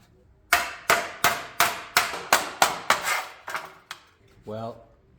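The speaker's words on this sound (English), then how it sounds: "I'll try to beat on this and straighten it out" A mangled aluminum heat shield on a Nissan Frontier is hammered straight: about ten sharp metallic blows in a steady rhythm, loud and close, followed by a brief voice.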